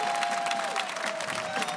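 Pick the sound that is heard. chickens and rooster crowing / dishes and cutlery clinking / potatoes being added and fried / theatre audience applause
theatre audience applause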